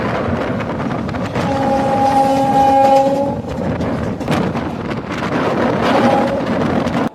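A Digha special local train runs along the track with a continuous loud rumble and wind noise, and a sustained tonal whine rises for a couple of seconds in the middle.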